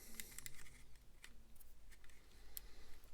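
Faint crackling and light ripping as masking tape is run around the fuselage of a 1/48 scale Vought Corsair model aircraft, with a few brief snaps and rustles close by, otherwise quiet.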